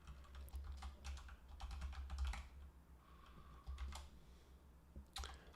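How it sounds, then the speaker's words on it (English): Typing on a computer keyboard, quiet and close: uneven bursts of clicking keystrokes separated by short pauses, with no talking. "I gotta type it out."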